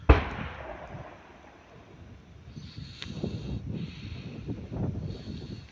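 White phosphorus munitions shelling Bakhmut: a sharp blast opens, then distant dull booms and crackling burning follow in uneven bursts under steady outdoor background noise.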